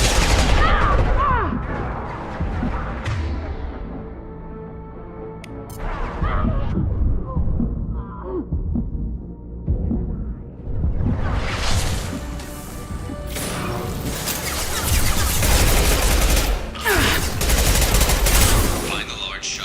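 Heavy sci-fi gunfire in Mass Effect 2 crackles in dense, loud volleys, thinning into a sparse lull before surging back into sustained bursts of rapid shots and impacts.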